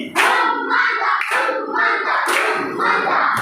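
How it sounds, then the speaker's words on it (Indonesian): A primary-school class in Indonesia gives a rhythmic 'tepuk mantap' clap: loud, close bursts of many hands clapping together in three distinct surges, each swelling and then settling. "mari kita berikan tepuk mantap buat mereka"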